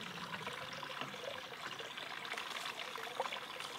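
Water flowing through a U siphon during a test, a steady close trickling and pouring that continues evenly throughout with no voices.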